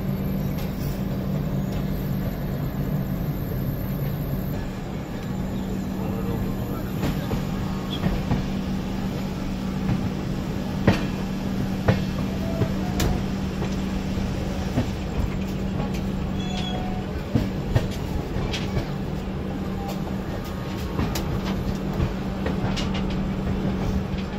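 Howrah–Kalka Netaji Express with LHB coaches rolls on with a steady, dense rumble and hiss, a low hum running throughout and faint intermittent clicks and squeals from the wheels.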